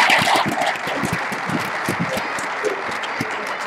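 An audience at a line-follower robot contest at a maker fair applauds, a loud burst that settles into steady, dense clapping from a crowd, with some louder claps standing out near the start.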